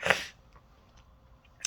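A single sharp sneeze, close and loud at the start, followed by faint rustling and a small sniff in a quiet hotel room.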